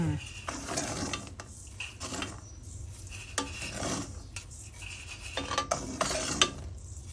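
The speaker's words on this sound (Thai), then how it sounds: "เราก็ตักถั่วขึ้นจากเกลือได้เลยค่ะ" Roasted peanuts are scooped out of hot salt in a pan, giving repeated gritty scrapes and clinks of a utensil against salt and metal, close by and moderately quiet.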